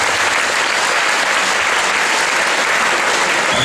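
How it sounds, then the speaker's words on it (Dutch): Steady, dense applause fills the whole stretch at a Dutch judo federation ceremony honouring a member, loud and even with no pauses and no talk over it. "We krijgen nu een applaus"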